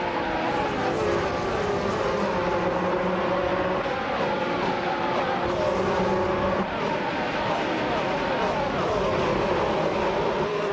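A Renault RS17 Formula 1 car is lapping in a racing video game, its engine a constant loud high-revving whine with shifting tonal bands. It sounds close and continuous for the whole stretch, with no pauses and no voices.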